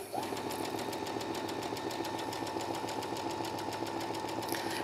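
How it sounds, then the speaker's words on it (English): Sewing machine stitching a double wedding ring quilt, a steady fast mechanical whir and hum running continuously at close range, fairly quiet and unbroken. "So I'm actually sewing right on the line."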